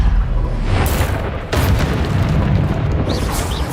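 Explosive booms from the Bombarda spell in the Hogwarts Legacy video game, a loud, heavy rumbling blast with a sharp second burst partway through and a sustained low roar beneath.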